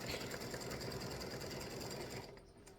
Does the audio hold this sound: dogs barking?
no